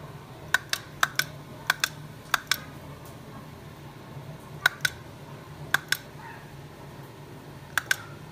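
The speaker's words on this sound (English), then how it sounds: "So I wanted to show you the clicker." A self-powered, battery-free wireless remote switch being pressed, giving sharp isolated clicks, often in quick pairs, spaced irregularly over a quiet room with no talking.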